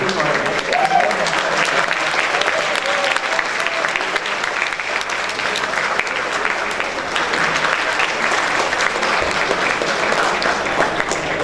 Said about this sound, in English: Give a loud round of applause for our director.